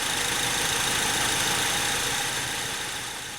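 A fully warmed-up Honda car engine idles at close range, a steady low rumble with fine vibration, alone and without talk, fading slightly toward the end.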